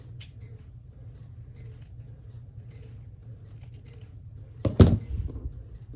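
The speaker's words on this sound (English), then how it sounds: "we're going to cut off this excess" Scissors cut off excess ribbon-like material while a bow is being made, a single close snip near the end after a quiet stretch with faint handling noise.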